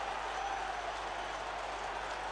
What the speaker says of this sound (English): takes the applause, and how well he deserves it.